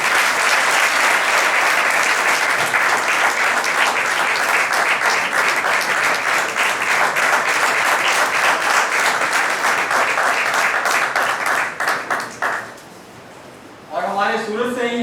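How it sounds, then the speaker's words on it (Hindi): An audience at a health care event breaks into loud, sustained applause that carries for about twelve seconds before fading, then a voice begins speaking. "तो प्लीज मनसुख जी के जोरदार तालियां।"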